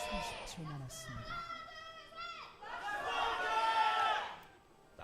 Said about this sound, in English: That was a mixed cheer, but somebody just opened their mouth and sound came out